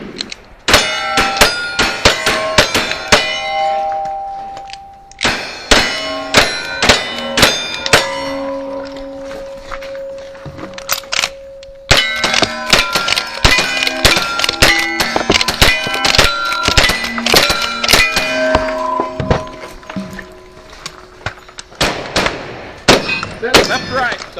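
Revolver and shotgun shots ringing off steel targets on a cowboy action shooting stage, a rapid series of sharp cracks with metallic clangs and pings in quick bursts and short pauses, close and loud.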